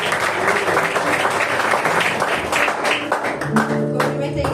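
A church congregation claps during a worship service. The applause is loud and continuous, and a voice and sustained musical tones come in over it toward the end.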